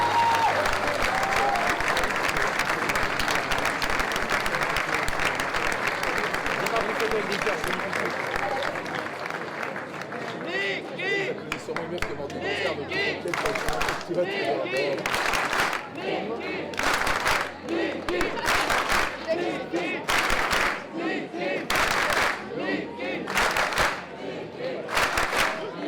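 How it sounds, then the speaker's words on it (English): An event audience breaks into loud applause and cheering, a dense crowd roar at first that gives way to sustained clapping with bursts and swells, with voices mixed in throughout. "A big round of applause."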